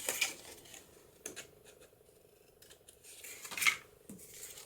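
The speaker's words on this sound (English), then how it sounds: "I'm going to just trim the corners of each of these pieces." Scissors snip the corners off paper journal pieces in a few quiet, sharp cuts scattered over several seconds, close to the microphone with soft handling noise between.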